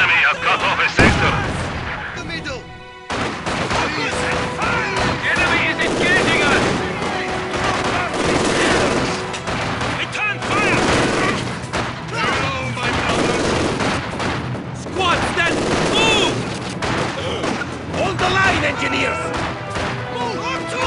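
Battle gunfire in the video game Company of Heroes 2, with dense bursts of rifle and machine-gun fire and explosions close and loud, mixed with shouted soldier voices from the game.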